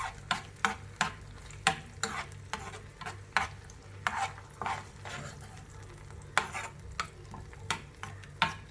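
A spoon stirs a chili and tomato sauce mixture in a hot pan, scraping and clinking in a steady rhythm of close, distinct strokes over a soft sizzle, with no voices.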